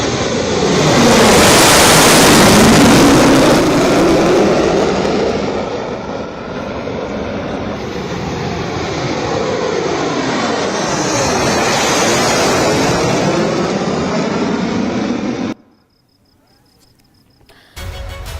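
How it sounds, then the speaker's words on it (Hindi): Fighter jets including a Rafale, a Sukhoi 30 MKI and a MiG-29 roar past at an Indian Air Force air show in Shahjahanpur, a loud sweeping rumble that swells and fades over about fifteen seconds before dropping to near silence. "राफेल सुखोई 30 MK MiG-29, ये गर्जना आप सुनिए जो पाकिस्तान के लिए काफी है।"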